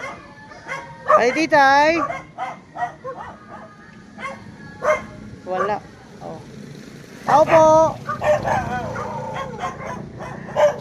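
Small dogs yip and bark in short bursts and whimpers, fairly close, while people call out and talk over them in Tagalog, with chickens nearby.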